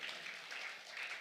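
A church congregation breaks into steady applause during a Sunday evening worship service, a dense, continuous patter of many hands clapping at close range with no pauses.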